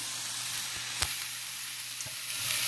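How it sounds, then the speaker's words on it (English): Onion and bits of food sizzling in a pan, a steady close frying hiss with a couple of soft knocks from a utensil stirring and scraping the bottom. "I want to stir in the pan, getting some of those little bits off the bottom."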